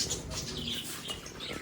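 Many small birds fluttering and chirping together, a busy, faint scatter of wing patter and high tweets over a soft background, with no talk.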